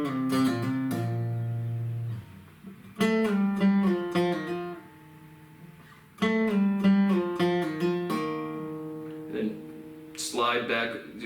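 Acoustic guitar picking pattern with plucks, strums, descending slides, hammer-ons and pull-offs, played close and clear as a flowing phrase of ringing notes with a few short pauses.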